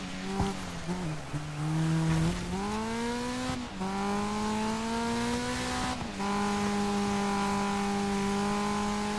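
A rally car in the DIRT 5 racing game revs hard and shifts through gears, its engine whine rising in pitch in steady sweeps, with brief tire noise between shifts, loud and close with no talk.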